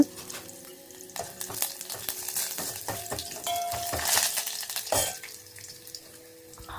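Crushed garlic, byadgi chillies and curry leaves sizzling and crackling in hot oil, a steady frying hiss with occasional stirring clinks of a pan, close and moderately loud.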